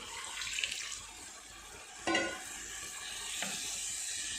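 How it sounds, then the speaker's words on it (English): Water splashes into a hot pan of white peas, setting off a sharp burst of sizzling over a steady background hiss, with a couple of softer pours. "So here I am adding some water."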